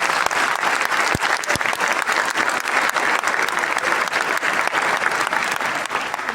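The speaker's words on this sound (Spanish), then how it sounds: "Un aplauso fuerte" Loud, sustained applause from a gathered audience at a spiritual talk, a thick, even roar of many hands clapping for several seconds with a few sharper individual claps standing out and no speech.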